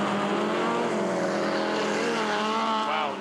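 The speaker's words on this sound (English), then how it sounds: "we can hear him feathering the throttle through all the turns." Subaru Legacy rally car on a mountain rally stage, engine revving steadily with throttle held and eased, the pitch rising and dipping, loud and close throughout.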